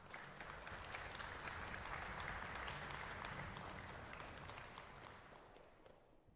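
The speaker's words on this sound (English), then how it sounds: "And one very big round of applause for our guest drummer tonight, Stephen" Audience at a friends-and-family strings camp concert applauding after a piece, a dense, steady wash of clapping from many hands that gradually thins and fades out at the end.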